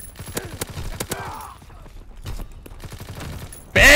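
A mortar barrage in Call of Duty WW2 lands as a rapid series of sharp impacts and crackling blasts. It ends in one loud, close explosion, with a little game chatter mixed in.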